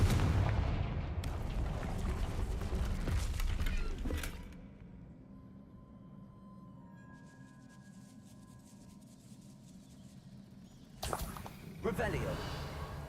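Confringo spell blasts burst in the video game Hogwarts Legacy: booming, crackling explosions dominate the opening seconds, then a quieter lull with a faint tone, before another loud blast near the end.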